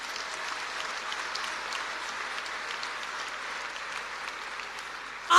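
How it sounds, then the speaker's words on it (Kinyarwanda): A church congregation applauding during a sermon, a continuous wash of many people clapping at an even level throughout, heard from some distance, with a brief louder burst at the very end. "Amashyi menshi kuri we."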